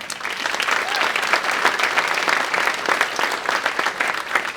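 Steady, dense applause from a luncheon audience honoring an award recipient at a leadership awards event, sustained and fairly loud throughout.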